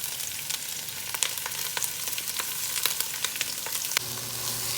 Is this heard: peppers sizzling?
yes